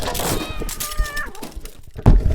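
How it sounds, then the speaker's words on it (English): Pet cats rummaging in kitchen cabinets give a drawn-out, wavering meow, with knocks and a louder thump near the end, all close to the microphone. "I'm sorry, my cats."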